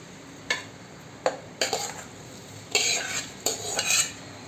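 Rice, mint and coriander for a veg paneer biryani are mixed in a pressure cooker pot, with a series of close scraping, clinking spoon strokes in irregular bursts over faint background hiss.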